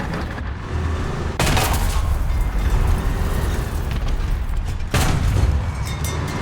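Two heavy tank cannon blasts in War Thunder, spaced a few seconds apart, each a loud sharp boom over a constant rumbling engine drone.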